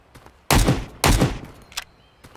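Two loud, close gunshots from a first-person shooter game set in a post-Soviet wasteland, each a sharp broadband crack with a short decaying tail, about half a second apart, followed by faint clicks and a brief metallic rattle.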